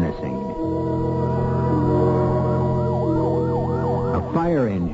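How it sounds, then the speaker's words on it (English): A fire engine siren wails loud and close through the night, its rising and falling pitch sweeping steadily over a vehicle's engine rumble, staged as a radio drama sound effect. "A fire engine, suddenly screaming through the night"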